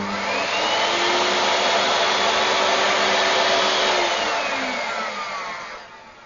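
An electric motor starts up and runs under high inrush current, a loud steady whirring drone that holds for several seconds and then winds down and fades, with no voices.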